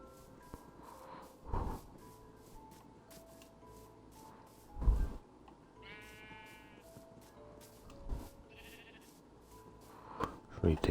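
Sheep in an Xbox video game bleat several times, close and clear, over a quiet ambient backdrop while a person talks.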